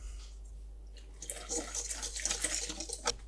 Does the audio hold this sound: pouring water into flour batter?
yes